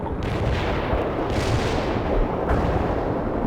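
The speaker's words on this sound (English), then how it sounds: "Artillery is available." Artillery barrage in the video game World In Conflict, a dense, continuous roar of rumbling shell impacts and blasts, loud and close, with no break across the whole stretch.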